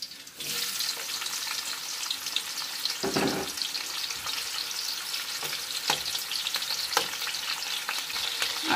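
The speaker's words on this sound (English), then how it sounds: "I like to fry just a little bit." Beaten hot pepper frying in a pan while cooking Liberian fried okra with bitter balls, a steady close crackling sizzle with occasional stirring scrapes and clinks throughout, no talking.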